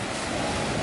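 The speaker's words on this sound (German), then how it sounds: "Und jetzt kommt eine große Welle." A large ocean wave breaks on the shore in a loud, broad wash of surf with some wind noise, close by, with no voices.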